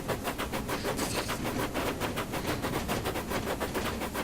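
Rapid rhythmic chuffing of an LNER V2 steam locomotive working hard on the Woodhead Line, a steady, loud, close exhaust beat that runs without a break, with no voices.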